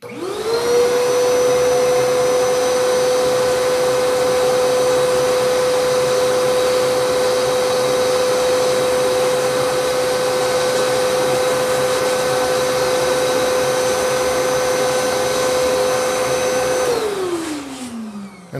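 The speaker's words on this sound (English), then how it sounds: "I'm going to turn on the vacuum." A shop vacuum whirs loudly at close range with a steady high whine for a long stretch, then winds down as it shuts off.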